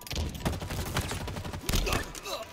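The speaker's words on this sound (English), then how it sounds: "Now they're just using pistols." Rapid pistol fire in the Halo Infinite multiplayer technical preview against bots, sharp repeated shots in quick bursts mixed with other game effects, with a voice briefly talking over the action.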